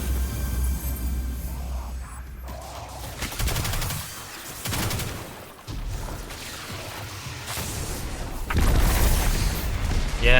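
Grenades blow up in the shooter Destiny 2 alongside heavy weapon fire, with booming detonations and a dense clatter of shots that swell louder toward the end.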